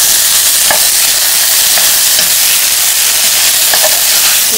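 Food is stirred and fried in a pan for an Andhra-style dish. A loud, dense sizzle runs continuously, with a few sharp spoon clicks against the pan as it is stirred. Nobody speaks.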